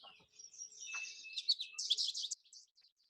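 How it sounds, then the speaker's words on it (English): An American goldfinch song played back from a phone's bird identification app: a quiet series of high, sweet twittering notes and buzzy trills, fairly close, with no talking. "So that's the American goldfinch from the Merlin Id Bird App"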